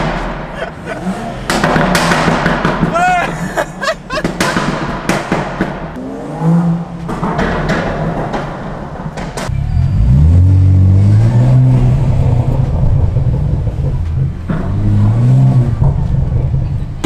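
A BMW car engine revs hard and falls back in repeated surges, loud and close, in a mall parking lot, with muffled voices and background noise around it.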